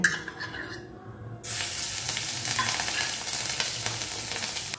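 Dried chili and ground garlic paste frying in hot oil for a Bengali elephant-foot yam curry, a quiet start then a sudden loud, steady sizzle and crackle that holds close and constant to the end.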